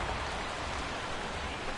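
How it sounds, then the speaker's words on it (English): Steady rain pouring over a ballpark in a PS4 baseball video game, a constant hiss of downpour that continues without a break. "the rain continues to fall here"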